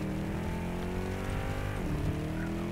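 The Hammerhead's big, V8-style engine in Saints Row gives a steady, throaty drone that rises slightly in pitch, stays close and loud, and carries no talk over it.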